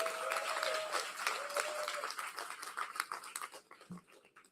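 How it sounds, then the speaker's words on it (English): An audience at an outdoor press conference for a groundbreaking applauds, a dense burst of clapping that thins out and tapers over about four seconds, moderately close, with faint voices mixed in. "Let's give them a round of applause."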